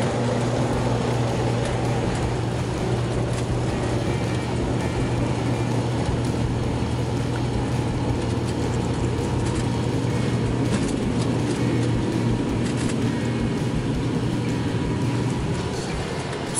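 Steady, loud engine roar inside a cabin during an aircraft takeoff, a constant low rumble holding evenly throughout with no talking.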